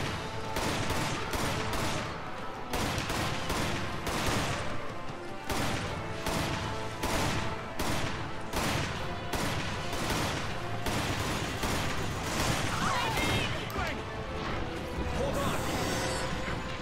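Rapid bursts of gunfire fired at enemies crackle densely and loudly almost without pause, mixed with mechanical clatter and voices shouting over the shooting.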